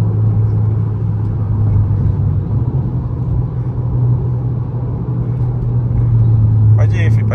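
A Volkswagen Jetta GLI's engine holds a steady, deep, loud roar, heard close from inside or beside the car, a constant low drone with a brief higher rattle near the end.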